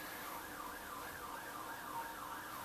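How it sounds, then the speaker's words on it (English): A wailing siren rising and falling in a steady slow cycle, heard at moderate distance over a faint road hum, continuous and alone without speech. "Police siren."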